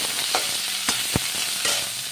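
Raw banana pieces frying in hot mustard oil tempered with cumin: a brisk close sizzle broken by a few sharp clinks and scrapes of stirring.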